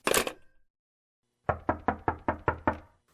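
Seven firm knocks on a door in an audio drama, evenly spaced and loud, following a brief burst of noise and a pause of silence.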